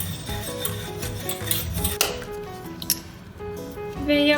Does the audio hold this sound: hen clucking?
no